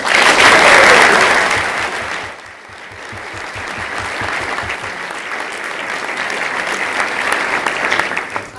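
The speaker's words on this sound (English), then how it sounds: "give him a round of applause." An audience at a school debate bursts into loud applause, many hands clapping densely at first, dipping briefly, then building back into steady, sustained clapping to the end.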